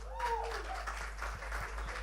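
Applause from an audience welcoming Ajay Devgan on stage at a Runway 34 game launch event, a steady broadband wash of clapping with crowd noise, a brief whistle-like tone near the start.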